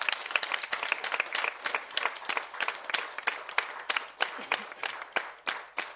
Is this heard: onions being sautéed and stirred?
no